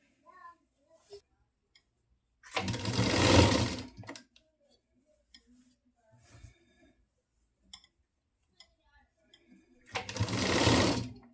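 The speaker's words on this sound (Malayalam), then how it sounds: "ഇനി അതുപോലെ തന്നെ തിരിച്ച് ഇപ്പുറത്തെ സൈഡും കൂടെ തയ്ക്കാം" An electric sewing machine stitching a pleated nighty runs in two loud, rapid whirring bursts of about a second and a half each, separated by quiet pauses with faint handling clicks and brief soft talk.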